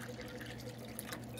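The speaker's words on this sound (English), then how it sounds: "if I were to fill this up here and pour it into a couple of cups" Water from a Stanley IceFlow bottle pours steadily into cups, a continuous close liquid trickle with faint splashing and no voices.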